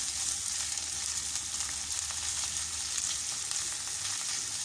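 Onions fry with garlic and ginger paste in hot oil, giving a loud, continuous hissing sizzle that stays even throughout, with no talking.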